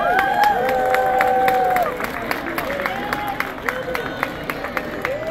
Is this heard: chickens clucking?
no